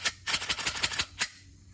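Glock pistol slide clicking during reassembly: a quick run of sharp metallic clicks and snaps, close and crisp, followed by one final distinct click and quiet.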